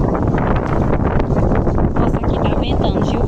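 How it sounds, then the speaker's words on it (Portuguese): Wind blowing outdoors in a rural yard where laundry is being washed, a loud, constant roaring gust buffeting the microphone with steady rumble throughout. "Aqui tá ventando."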